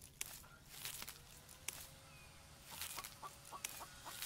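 Chickens in the survival game The Infected give scattered, faint clucks over quiet background noise, with sharp clicks and a few short bright chirps among them, and no speech.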